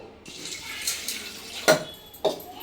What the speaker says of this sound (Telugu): నేనైతే నీళ్ళు పోసుకొని కడుక్కుంటున్నా పప్పుని.